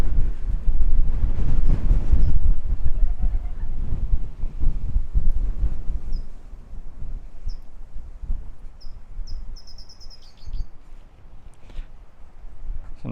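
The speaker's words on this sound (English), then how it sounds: "Feel the wind really powerful now." Strong, powerful northwest wind on a cold March morning at Griffith Park Observatory in Los Angeles roars in heavy gusts against the microphone, loudest early on and easing later, with a few faint bird chirps above.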